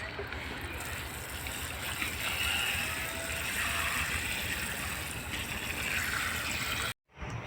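Water is poured onto a curry leaf plant growing beside a wall, making a steady, close splashing trickle that runs without pause and stops abruptly near the end.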